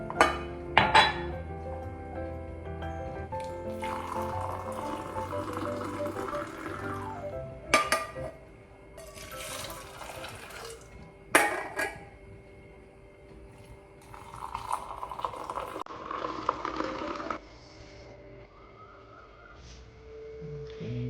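Cups, spoons and pans clink and clatter in a home kitchen while coffee and milk are prepared, with sharp isolated knocks, scraping, and a stretch of pouring or stirring between quieter pauses.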